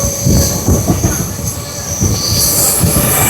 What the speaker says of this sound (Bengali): না না না, প্রচুর স্পিডে যাচ্ছে এখন। প্রচুর স্পিডে আছে ট্রেন।